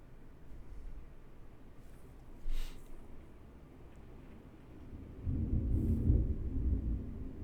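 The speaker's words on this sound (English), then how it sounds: "you can absolutely hear the rolling thunder" Low rumbling thunder rolls in the distance, swelling into a louder, sustained deep rumble in the second half, with no voices.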